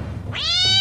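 A single short cat meow, close and clear, rising into a bright tonal cry that lasts under a second.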